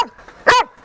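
A dog on a pebbly beach gives a single loud, close bark after some quieter background sound, while people are out hunting for fossils.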